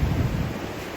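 Ocean waves at high tide at the Forest Caves beach on Phillip Island, Australia, make a steady, close roar of surf, with wind buffeting across the microphone throughout.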